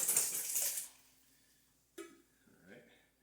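Vegetables and a big jar of corn tip into a cooking pot for chicken soup, giving a loud burst of clattering and splashing for about a second, then one short clunk and a softer rustle.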